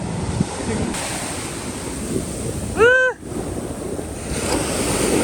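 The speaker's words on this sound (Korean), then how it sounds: "파도가 너무 세네" Strong ocean waves break on a beach at Yangyang on Korea's east coast, a constant loud roar of surf with wind noise. A brief high whistling tone sounds midway.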